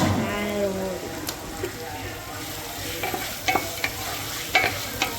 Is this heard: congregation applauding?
no